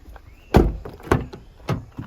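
A car's rear door is worked open with a few solid thunks and latch clicks, loud and close, with no talk over it.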